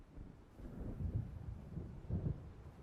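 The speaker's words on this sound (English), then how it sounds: "It seems there's a storm coming." Low, rolling thunder from a gathering storm in the game Alan Wake, two soft rumbling swells over a steady windy backdrop, distant and fairly quiet with no voices.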